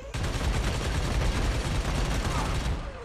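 Sustained, dense gunfire from the video game Army of Two, a loud continuous burst of automatic shots lasting the whole moment with no pause.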